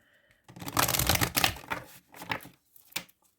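Tarot cards are shuffled and drawn by hand, giving a close burst of riffling and sliding card sounds followed by a few shorter flicks and snaps, with no talking.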